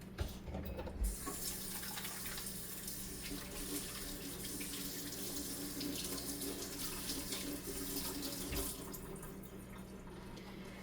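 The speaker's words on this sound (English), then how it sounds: "Let me wash my hands because I don't like my hands dirty." Tap water runs steadily into a sink while hands are washed, a close, continuous splashing hiss that starts abruptly and trails off near the end.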